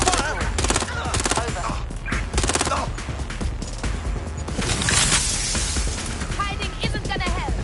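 Gunfire rings out in the video game Watch Dogs Legion: dense, overlapping bursts of shots and rapid volleys crackle loudly over busy game sound for the whole stretch.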